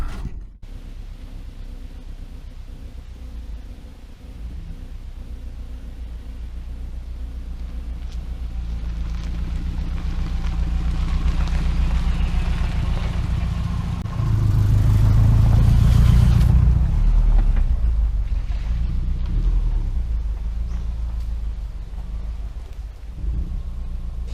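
A car creeps slowly up a narrow road into a campsite recreation area, a steady low engine rumble with gravel and wind noise, swelling louder for a few seconds midway before easing back.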